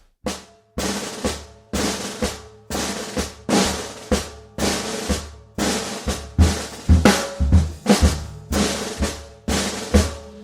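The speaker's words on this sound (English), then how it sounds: "this cool pattern that comes out of the New Orleans rhythm on the snare drum" A snare drum plays a repeating New Orleans groove of sharp strikes, each swelling into a short buzzing roll, loud and close with a steady rhythmic pulse.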